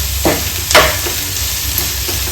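A spoon stirs soya chilli in a hot pan, giving two or three scraping strokes over a steady sizzle, close and fairly loud, with no talk.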